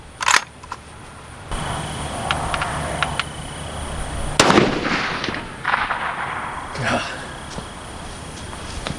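A 350 Legend rifle fitted with a Leupold VX Freedom scope fires one sharp shot outdoors in wind. Smaller clicks and handling noises come before and after it, and people talk quietly in the background.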